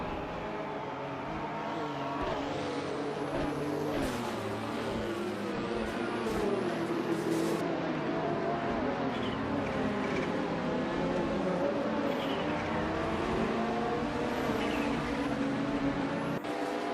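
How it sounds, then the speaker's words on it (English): A 1994 Alfa Romeo 155 TS race car in a racing video game roars loudly and continuously, its engine pitch rising and falling through gear changes and passes, with other cars' engines mixed in and no talking. "Botigrets 34 is driving a 1994 Alfa Romeo 155 TS."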